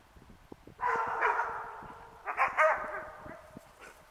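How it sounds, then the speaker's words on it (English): Dogs bark and howl in two drawn-out bursts, with sharp yips in between, against a background of faint knocks. "they can hear the dogs over there, so they're losing their minds"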